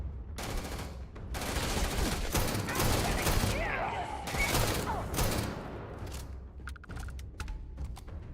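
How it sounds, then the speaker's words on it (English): Gunfire in Starfield, bursts of loud shots and volleys spread through the first half, then a quieter stretch of clicks and scattered sounds, with a voice talking over parts of it. "just come in here and shoot everyone"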